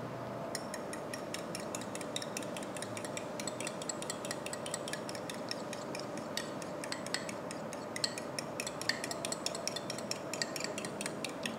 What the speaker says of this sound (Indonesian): Lalu telurnya kita kocok asal ya.